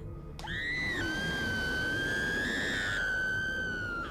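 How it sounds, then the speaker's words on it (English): A long, shrill scream rings out in the video game What Remains of Edith Finch. It starts abruptly and holds one loud, sustained pitch for several seconds, with no talk over it. "Here comes the scream."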